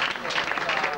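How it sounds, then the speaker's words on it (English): Applause from an audience at a blues concert, a dense, steady wash of clapping that fills the whole second at moderate loudness with a crowd murmur underneath. "How about a nice round of applause, ladies and gentlemen, for our PA system operator over there."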